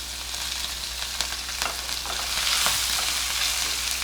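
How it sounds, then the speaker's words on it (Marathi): Green chillies fry in a pan with steady broadband sizzling and a few stirring clinks, close and constant, for a bun dosa tempering before onion and curry leaves go in. "कांदा टाकायच्या आधी मिरची टाकते मी दोन मिरच्या घेतलेल्या आहेत"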